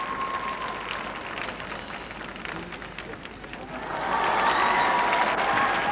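A large arena crowd at the 2002 figure skating world championships in Nice applauds steadily after an ice dance program, and the clapping swells louder toward the end while a commentator talks over it.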